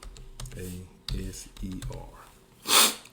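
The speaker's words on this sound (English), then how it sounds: "Now I'm gonna type in the word" A computer keyboard is typed in short bursts, with soft clicks under someone speaking in a quiet room, ending with a brief breathy noise.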